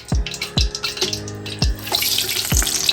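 Water splashing and running over hands while washing before making keerai vadai, a series of loud, close splashes and pours with short pauses, no talk.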